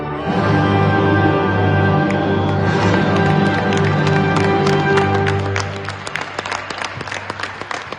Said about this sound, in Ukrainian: На наш гімн відреагували стриманими оплесками